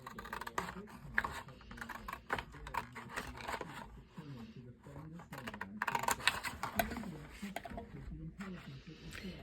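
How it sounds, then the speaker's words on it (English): Scissors cut paper sides for a gift planner, making soft, irregular snips and rustles close by while a person talks throughout. "I'm going to cut these sides out right here. These tops. So I'm going to cut this."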